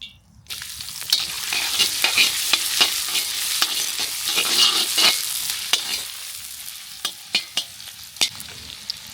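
Ginger and garlic fry in hot oil in a loud, steady sizzle, with sharp clinks and scrapes of stirring that punctuate the hiss, growing more distinct toward the end.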